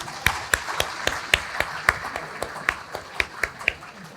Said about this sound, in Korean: 더스트링 현악 4중주 팀께 다시 한번 박수